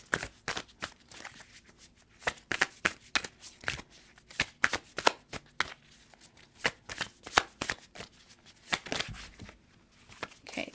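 Tarot cards shuffled close by in repeated bursts of crisp riffling and slapping, irregular and fairly loud, with no talking.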